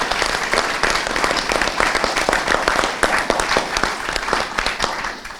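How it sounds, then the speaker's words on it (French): An audience in a hall applauds steadily and loudly throughout, a dense wash of many hands clapping without letting up. "Elle a mérité des applaudissements."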